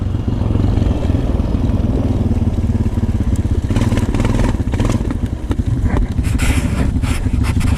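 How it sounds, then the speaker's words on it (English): Honda TRX ATV engine revving loud and close in snow, with a broken fender support clattering and rubbing against the tire as rapid rattling bursts over the continuous motor drone. "the fender support inside broken off and it's hitting the tire."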